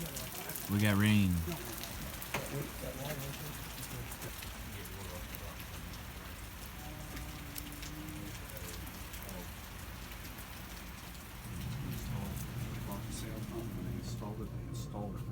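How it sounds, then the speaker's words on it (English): Steady rain patters on a 42ft sailing catamaran throughout, a dense hiss of drops, with a brief voice near the start and a low rumble later on. "We got rain."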